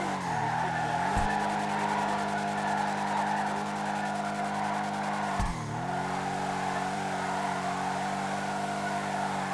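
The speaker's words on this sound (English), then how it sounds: "You hear the way that thing was, revving?" A car engine in a police-patrol driving video game revs hard and steadily while tires squeal and skid, with two sharp shifts in pitch, loud and continuous with no talk.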